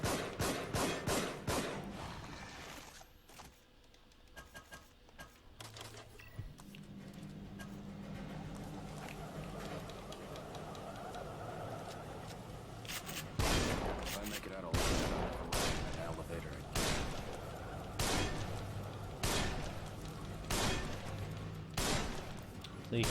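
Repeated sharp gunshots in The Evil Within, firing a rifle and other weapons, spaced bursts that cluster into a rapid string of evenly timed loud blasts near the end, with a voice talking between them.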